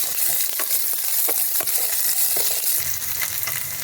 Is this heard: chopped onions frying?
yes